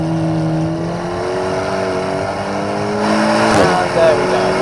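The engine of an Alpine A110S on semi-slick tyres pulls hard on the wet Nordschleife, its loud, close drone climbing steadily in pitch before a sharp drop and a fresh rise near the end.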